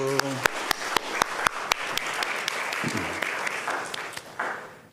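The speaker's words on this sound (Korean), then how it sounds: "박수." A church congregation bursts into applause, a dense wash of clapping with a few loud distinct claps standing out, fading gradually; a voice speaks briefly at the start.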